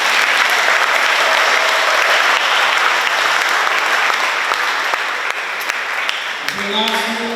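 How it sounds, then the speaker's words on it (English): An audience at an Education Week event gives sustained applause, loud and dense clapping from start to finish, with a voice starting up near the very end. "Let's give them a round of applause."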